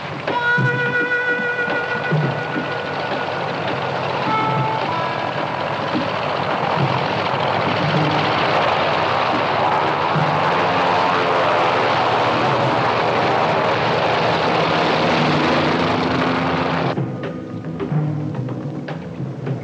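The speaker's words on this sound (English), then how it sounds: "We have a 2-hour flight ahead of us." A propeller airplane in flight drones loudly and steadily from up close for a long stretch, a dense engine roar under faint indistinct voices that eases near the end.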